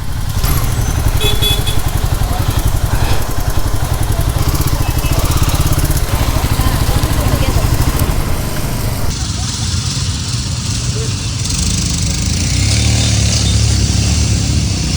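A lineup of Royal Enfield Himalayan 411 and 450 motorcycles idles near the Sonamarg tunnel on the road to Zoji La, a steady close engine chug running throughout amid other outdoor rumble.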